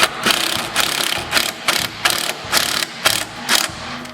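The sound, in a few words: driving a 1/4 inch self-tapping screw with a ratchet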